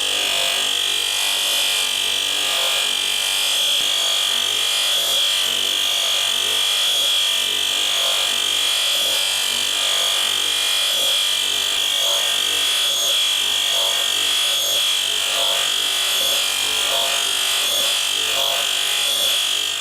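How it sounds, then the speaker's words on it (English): A combi sanding wheel brushes a steel exhaust tube during custom exhaust fabrication for a Honda Civic EJ2, giving a steady, close abrasive whir that holds evenly throughout with no pauses. "this is just a quicker way of doing it using the combi wheel"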